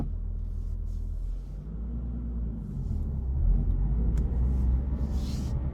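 A Nissan 350Z pulls away from a stop, its engine a low, steady rumble heard from inside the car that swells briefly as it takes off.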